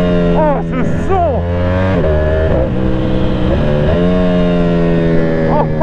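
Ducati Panigale V4S Corse motorcycle with 231 hp revving up and down through gears while riding, loud and close with rising and falling engine pitch and wind rush.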